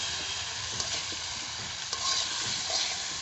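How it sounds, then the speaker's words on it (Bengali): Potatoes frying in a pan until browned, a steady close sizzle with a few light scrapes of stirring, no voices. "দেখো আলুটা প্রায় আমার লাল লাল করে ভাজা হয়ে গেছে"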